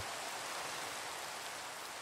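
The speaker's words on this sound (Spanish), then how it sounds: "vamos a ver si podemos dormir para que se vaya esta lluvia" Steady rain from the video game Minecraft, a soft, even hiss of falling drops that holds constant and faint with no break.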